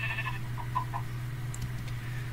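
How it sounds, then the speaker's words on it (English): Sheep in a video game bleat a few short times, faint and wavering, over a steady low hum with no talk. "Sorry, sheep. You're gonna have to go."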